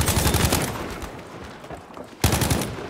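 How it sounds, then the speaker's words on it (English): Submachine gun fire in the Battlefield 5 shooter: a sustained rapid burst of loud, close shots, a short lull with distant crackle, then another rapid burst. "There was definitely an SMG shooting at me."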